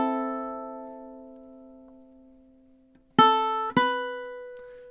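Ukulele playing measure 4 of a song: one note held and slowly fading for about three beats, then two sharp plucked notes in quick succession near the end, alone and close.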